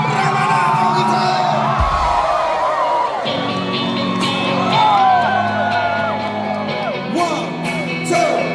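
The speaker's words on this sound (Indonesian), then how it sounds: "Saya ingin tepuk tangan paling meriah untuk aset Indonesia." A concert crowd at iBox Week in Makassar cheers, whoops and shouts for a guitarist, loud and close, with a sharp thump partway through and bursts of yelling rising over the hubbub.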